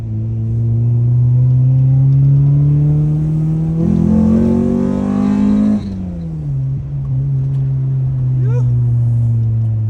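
A Honda Civic with a B20B engine revs while driving, its engine tone climbing steadily, peaking, then dropping back before rising again, loud and close inside the car.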